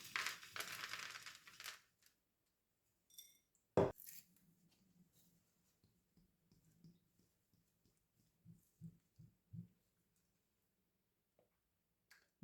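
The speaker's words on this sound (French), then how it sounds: "Il suffit de mélanger les flocons" Dry rolled oat flakes and almonds are tossed together for homemade crunchy cereal: a brief, close rustling crunch at the start, then faint, sparse soft taps and knocks in a quiet room.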